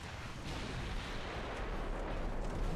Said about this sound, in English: Battleships landing some nasty hits.